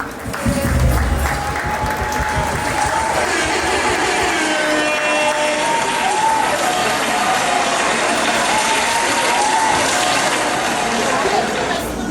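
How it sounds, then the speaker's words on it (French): At a community association's gala evening, a crowd gives sustained, dense applause that runs steadily for about twelve seconds, with a low background hum and some crowd noise underneath. "On peut applaudir pour eux"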